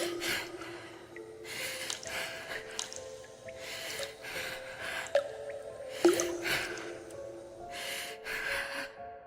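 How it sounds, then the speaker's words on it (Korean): Heavy, ragged breathing and wet, squelching footsteps with dripping sounds in a small room, a horror story sound effect; gasps and snorting breaths recur steadily with a few sharp louder moments, and there is no talk. "누군가의 거친 숨소리와 물기를 머금은 발소리가 방 안에 울리기 시작했습니다"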